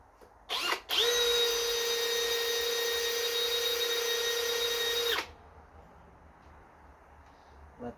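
A power drill bores into a Chevy engine block on a 1963 Impala to mount a power steering pump, with a steady high-pitched whine running for about four seconds after a brief start, then stopping.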